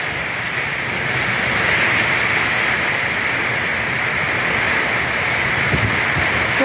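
Steady, heavy rush of rain with a broad hiss, constant and loud throughout, like a downpour driven by strong wind, during a storm of rain and very strong wind that flattened corn crops.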